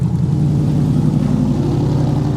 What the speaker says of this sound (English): Oh man, he has a big truck.